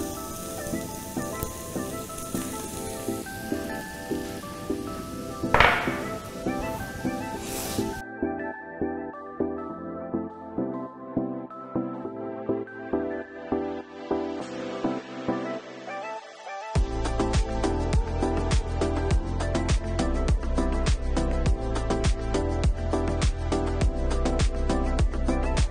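Butter melting and sizzling in a hot pan with skate wings: a steady crackling fizz with small popping spatters. Partway through it drops to a quieter hiss, then returns louder and denser.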